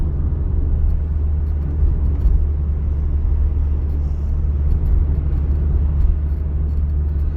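A car driving straight at about 45 km/h in third gear, heard from inside as a steady low engine drone and road rumble at an even, moderate level with no voices.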